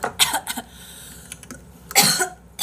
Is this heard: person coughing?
yes